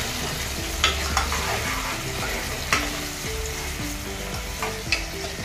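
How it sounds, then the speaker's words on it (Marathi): Onions and tomatoes sautéing in hot oil for a green chicken curry, a dense continuous sizzle with occasional sharp spatula scrapes against the pan, loud and near, with no voices. "आपण कांद्यानंतर हे टोमॅटो देखील चांगले तेलामध्ये परतून याची बारीक अशी पेस्ट करून घेणार आहोत"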